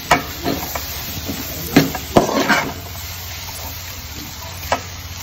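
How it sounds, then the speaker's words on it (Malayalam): Chicken noodles with masala stirred in a pan, with a soft steady sizzle and a few scraping clinks of the spoon against the pan, no talking. "ഞാനിതൊന്ന് നന്നായിട്ട് ഇളക്കിയെടുക്കാം"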